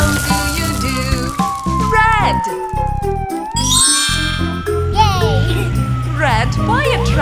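A cartoon red fire truck's siren in an animated nursery rhyme, a long wavering wail gliding down and up across the clip, loud over busy children's music with sung voices.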